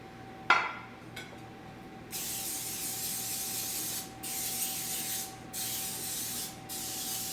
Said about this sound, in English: and I spray it very liberally because I don't want it to stick.